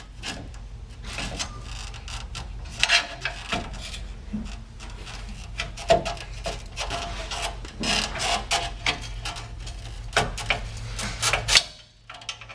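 A pry tool scrapes and grinds against a Land Rover coil spring during a 2-inch lift suspension install, in irregular rubbing, scraping bursts with metallic clicks, close and moderately loud, no voices.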